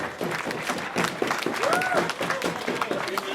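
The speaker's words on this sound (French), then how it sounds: "une fois de plus, un tonnerre d'applaudissements" Steady applause from a crowd at the Tour de Romandie 2017 prologue podium ceremony fills the clip, with an announcer's voice speaking over the clapping.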